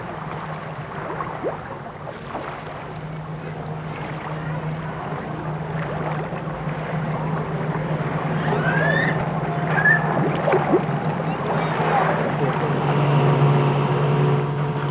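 A motorboat engine sound played underwater into a pool holding whales, a steady low drone running throughout with scattered squeaks and clicks above it, growing slightly louder toward the end.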